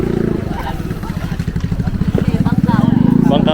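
A small motorized tricycle engine putters rhythmically close by, its chugging pulse growing stronger, with voices speaking over it.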